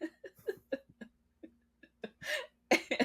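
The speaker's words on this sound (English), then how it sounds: "I apologize. I had to sneeze." A single abrupt sneeze bursts out near the end, loud and close, following soft breathy sounds and small hiccup-like catches.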